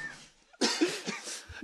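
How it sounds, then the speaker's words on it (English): A person coughs in a short, harsh burst of two or three rough hacks, close and fairly loud after a quiet moment. "I keep coughing"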